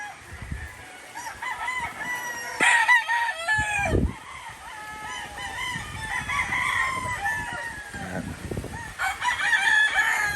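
Several gamecock roosters crow repeatedly on a rainy farm, overlapping calls rising and falling at moderate distance, with clucking fowl and steady background noise between the crows.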